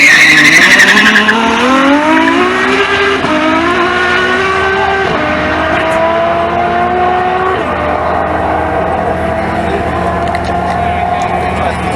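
A Ferrari F12 launches hard at a drag strip, its engine roaring loud and close as the pitch climbs and drops back through several quick gear shifts, then settles into a sustained high-revving pull.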